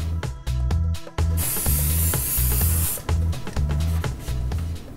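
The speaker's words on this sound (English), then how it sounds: "Finish it, lightly mist it with some hairspray." Hairspray lightly misted over a salon fishtail plait: a couple of quick spritzes, then a sustained hiss of about two seconds, close by, over steady background music.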